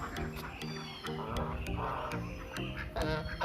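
Several ducks quack repeatedly in short, nasal bursts, fairly close, with overlapping calls and background farmyard noise.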